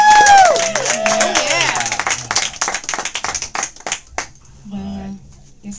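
Audience applause for a singer-songwriter at an evening performance, with a brief sung or sustained note at the start, then scattered clapping that thins into a few individual claps.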